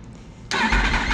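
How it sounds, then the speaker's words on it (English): A quiet idle of a 2018 Yamaha R1 sport motorcycle with a full exhaust suddenly bursts into a loud, raspy engine rev close by. "I'll go ahead and give you guys a little bit of an exhaust clip now."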